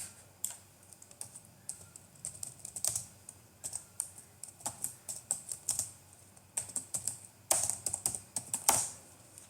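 Keys clatter in quick irregular bursts on a computer keyboard, close and fairly crisp, with short pauses between runs of keystrokes and no talking.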